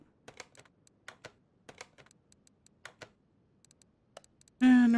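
A computer mouse clicks in a quick irregular series of sharp, close ticks, faint low noise under them, while a car model is built; a voice briefly cuts in at the end.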